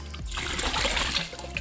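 Sand is scooped out of nano shrimp aquarium water, giving a brief, close wet trickle and sloshing of water.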